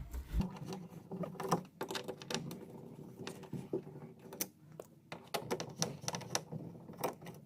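A ratchet wrench clicks and clatters in quick bursts while undoing three window regulator bolts inside the front door of a 2017 VW Transporter Mk6, with irregular close metallic ticks throughout.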